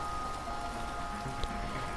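Steady hiss of a heavy rain deluge in a post-apocalyptic audio drama scene, a continuous even wash of falling water with a faint tonal hum underneath and one small tap near the end, no speech.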